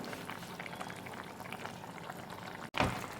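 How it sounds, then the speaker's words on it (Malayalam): Thick squid roast masala bubbling and boiling steadily in an open pan, with a short pause and a louder burst of bubbling at the end. "ഇപ്പോൾ ഏകദേശം ഇതിൻ്റെ നന്നായി തിളച്ച് വന്നിട്ടുണ്ട്"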